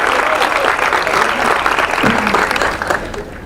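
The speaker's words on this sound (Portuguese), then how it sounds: "Quero uma palmas pro Cláudio" A church congregation claps and cheers, a loud, dense round of applause that holds steady, then eases off near the end as a voice calls out.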